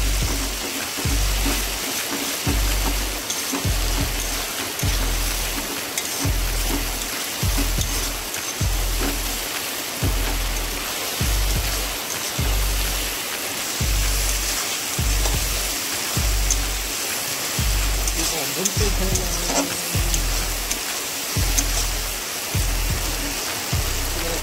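Onion fries with garlic and dried chilli paste in mutton fat for a ghugni, a steady loud sizzle broken by regular low thuds of stirring, with no talk.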